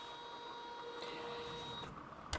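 An embroidery machine stitches a design on a hooped notebook cover, a steady close whirring hum that runs unbroken and ends with a brief clack, with no talk.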